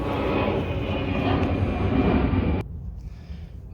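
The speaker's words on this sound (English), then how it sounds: "Sorry about the airplane." A loud, continuous roar of an airplane flying overhead dominates for a few seconds, then cuts off abruptly, leaving quiet room tone with no one talking.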